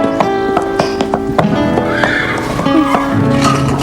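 A horse whinnies loudly nearby, and hooves clip-clop in an uneven rhythm as it arrives, with little talk.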